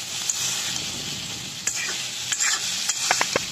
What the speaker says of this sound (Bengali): সবজিগুলো ভালো করে কষিয়ে নিতে হবে।